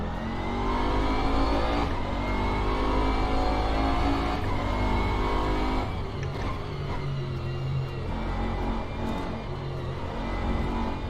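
Race car engine of a Bentley GT in rFactor 2, running steadily loud and close for the whole stretch with sustained revving and gear-change dips, no voices.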